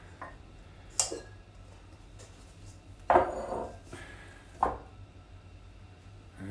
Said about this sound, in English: So I'll just change out these bowls.